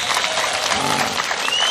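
A crowd at a popular Islamic religious gathering claps in a sustained, dense burst that holds steady throughout, close and fairly loud.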